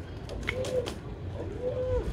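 A person's voice imitates a female pigeon cooing, giving two soft, low warbling coos over quiet background noise, during pigeon trapping.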